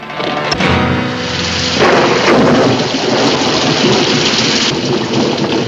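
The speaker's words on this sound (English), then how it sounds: "We can't go much further in this rain." Heavy rain pours steadily in a stormy outdoor scene, with a loud thunder crack and rumble early on before the downpour continues as a dense, close hiss.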